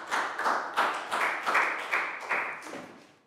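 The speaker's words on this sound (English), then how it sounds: "Big round of applause for Bangpon" A small classroom group claps in rhythmic unison, about eight sharp, evenly spaced beats close by that fade slightly toward the end.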